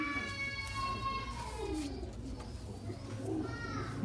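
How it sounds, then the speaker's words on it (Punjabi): A pet pigeon cooing close by, with low throaty coos that rise and fall across the clip over a steady background hum, and a few faint chirps. "ਲੋ ਜੀ ਇਹ ਮੇਰਾ ਕਬੂਤਰ"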